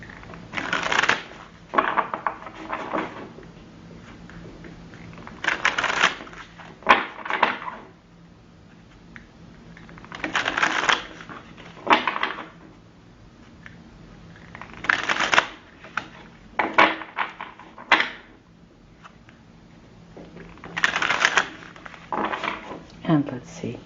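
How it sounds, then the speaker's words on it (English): A deck of oracle cards being shuffled by hand, repeated bursts of riffling and sliding cards every few seconds, close and crisp, with quiet gaps and some talking between. "mix the cards,"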